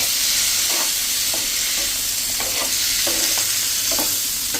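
Two medium tomatoes go into a pan of onion and roasting spices and are stirred. Soft, continuous frying hiss sits under repeated scraping strokes of the spatula, close and without speech.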